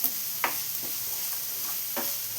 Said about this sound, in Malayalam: സാധാരണ ഉപ്പുമാവിന് വഴറ്റിയെടുക്കുന്ന പോലെ ജസ്റ്റ് ഇതെല്ലാം കൂടെ ഒന്ന് വഴറ്റിയെടുക്കണം.